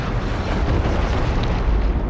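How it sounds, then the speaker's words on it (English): A volcano erupts in a video game with a sustained, loud roaring rumble of fire and blast noise, steady and dense throughout with no pauses. "Another explosion in the volcano."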